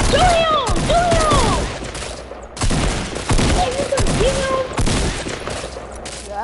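Rapid bursts of video-game gunfire, a dense fusillade of repeated shots with brief pauses, loud and close, while excited players shout over the shooting.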